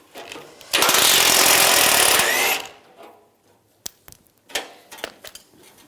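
A power tool loosening a bolt on a Silverado bumper bracket, one loud continuous burst of about a second and a half, followed by scattered metallic clicks and clunks of handling.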